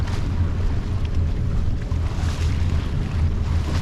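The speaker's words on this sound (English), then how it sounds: "Quite a nice southwesterly breeze at 10 or 12 knots, just nice." A southwesterly breeze of 10 to 12 knots blows over a gaff-rigged sailboat at sea on a passage from Gosport toward Eastbourne, a steady, loud, low wind rumble buffeting the microphone with faint water wash underneath and no voices.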